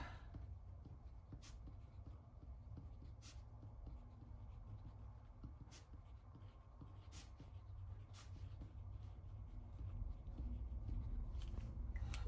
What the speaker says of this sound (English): So I'm gonna write it here.